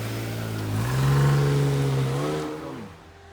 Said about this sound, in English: This car sounds healthy.